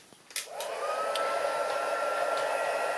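A heat tool blows a steady, loud, even hiss of hot air to melt embossing powder, starting after a brief click and continuing alone without pause.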